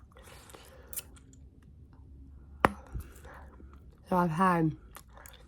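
Gum is chewed close to the microphone in a quiet room, with sparse soft wet clicks and smacks, followed near the end by a brief spoken phrase.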